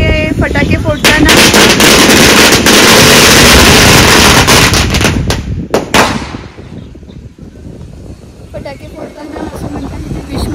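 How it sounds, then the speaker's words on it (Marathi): Firecrackers burst at a temple in a dense, very loud rapid string of cracks and bangs, then break off into scattered pops and crowd voices. "बघा फटाके लावत आहेत"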